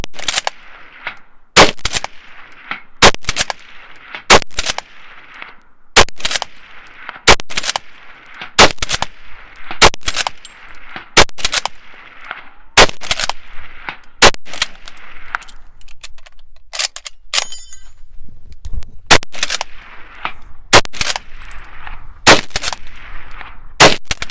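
SMLE rifle fired in rapid succession in a Mad Minute drill at a 300 yard target: about twenty sharp, loud gunshots in a steady, fast rhythm, separated by clacks of the bolt being worked, outdoors with no talking.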